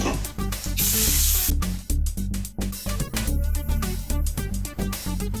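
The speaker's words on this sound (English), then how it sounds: "I'm going to take this electronical cleaner, squirt it down in here, let it soak for a little bit" Electronic contact cleaner sprayed into the motor of a Wahl Storm two-speed clipper, a loud close hiss burst followed by shorter spray puffs over a steady low hum.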